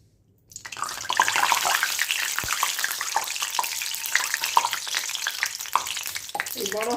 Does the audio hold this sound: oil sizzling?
yes